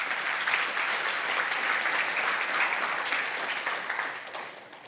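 Steady applause from a conference audience fills the room for several seconds, a continuous wash of clapping at moderate distance that fades slightly toward the end.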